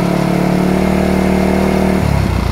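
A Toyohama TY-5500i inverter generator runs steadily in high speed mode, a loud, even engine drone with a constant hum that shifts pitch near the end, no talk over it.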